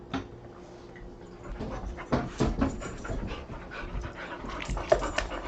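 Dogs pant rapidly and let out small whimpers close by, with irregular clicks and shuffles mixed in over a low room rumble.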